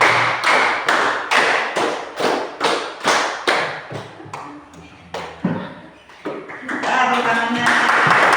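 Hand claps in a classroom clapping game, a steady run of about fourteen sharp claps in groups, then scattered claps with children's voices talking and calling out near the end.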